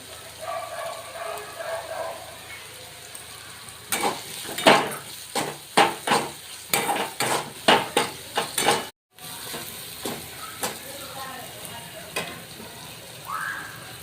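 Chopped onion and tomato sauté in a pan for egg bhurji with a steady low sizzle, then a run of rhythmic spatula scrapes and stirs against the pan, close and fairly loud.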